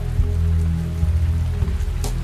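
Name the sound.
rain falling on koalas' trees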